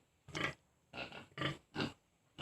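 A piglet grunts four times in short, close bursts with brief pauses between them, with no one talking.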